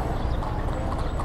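Horses' hooves clip-clop steadily on a road in rural Ilocos Sur, Philippines, a fast continuous patter of several animals heard close by over a low outdoor rumble, with no talking.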